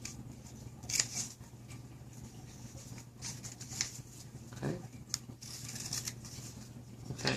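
Scissors snip through kinesio tape strips during a shoulder and rotator cuff taping, a few quiet, crisp cuts spaced apart over a low steady hum, close and faint with no talking.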